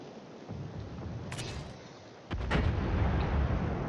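Naval guns of a Gearing destroyer fire in a naval combat video game, a sharp crack followed by a heavier booming salvo that rolls on as a sustained rumble.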